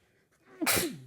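A single sudden sneeze, close and loud, following a brief quiet intake of breath.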